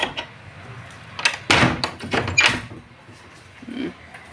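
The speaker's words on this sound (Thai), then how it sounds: "แม่ปิดหน้าต่าง" A window is closed at home on an overcast, stormy day, giving a few quick knocks and sliding thuds clustered together, fairly near and alone.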